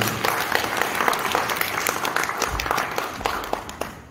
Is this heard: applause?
yes